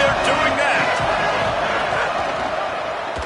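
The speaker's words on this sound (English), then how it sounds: "They challenge this crowd to bring the energy, and I'd say they're doing that." Stadium crowd at a college football game cheering steadily, a dense, loud roar of many voices that holds throughout with little variation.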